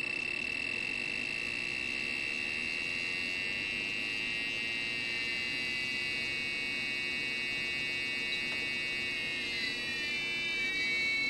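A multimeter's continuity tester sounds a steady, piercing electronic test tone with buzzy overtones that shifts and warbles near the end as it aliases, alone and without talk.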